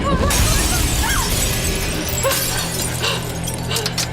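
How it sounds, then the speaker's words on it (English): Breakaway prop glass shattering on a film set, a loud close crash with bright tinkling shards scattering and settling over a few seconds. "Another breakaway glass."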